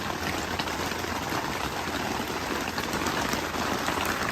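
Heavy rain pours steadily on a campsite during flooding storms, a dense, constant hiss of drops hitting surfaces at close range with no voices.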